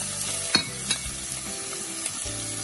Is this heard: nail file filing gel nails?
no